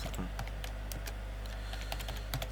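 Keys clatter in quick irregular bursts as someone types on a computer keyboard, close up over a steady low hum.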